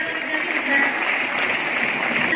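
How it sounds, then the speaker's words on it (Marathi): A group claps for a correct answer in a history quiz, a full burst of close, even applause that continues throughout. "बरोबर उत्तरासाठी टाळ्या."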